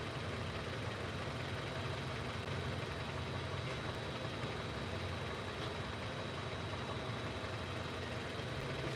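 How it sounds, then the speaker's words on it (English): A vehicle engine idles steadily after running for some time during an engine-oil challenge. It makes a faint, even, continuous rumble with a slight whine, and nobody speaks. "Right now the vehicle has been running for 17 minutes, so 13 minutes more to go."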